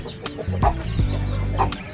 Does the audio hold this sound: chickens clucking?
yes